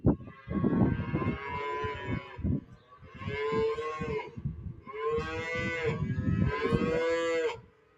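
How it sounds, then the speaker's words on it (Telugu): Calves among cows on a farm, some of the cattle brought from Australia, moo loudly and repeatedly. Four drawn-out calls follow one another closely with only brief pauses between them. "మొత్తం ఇవే దూడలు కనిపిస్తుంది"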